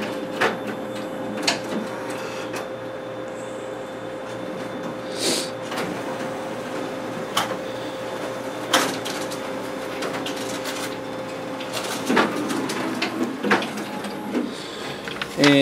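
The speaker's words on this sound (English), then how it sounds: "here we have our test copy stapled and hole punched through the document feeder" A Xerox WorkCentre 7855 copier runs steadily, with a constant machine hum and a series of sharp mechanical clunks and clicks as it copies a document, hole punches it and staples it.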